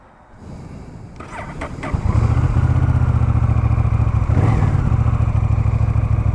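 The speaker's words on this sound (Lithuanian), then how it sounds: "Na ką, metas su motociklu pavažiuoti." A Honda Rebel 1100 motorcycle engine starts up close by, then settles into a loud, steady low rumble that holds for several seconds with no talking.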